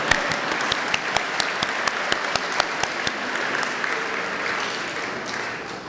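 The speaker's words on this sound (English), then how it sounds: "so it's okay to clap here now." Dinner guests applauding, with a few sharp, close claps in steady rhythm over a broad bed of crowd clapping that fades slightly at the end.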